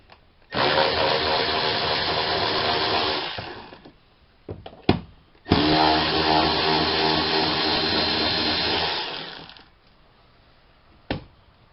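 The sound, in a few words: power tool with socket removing bolts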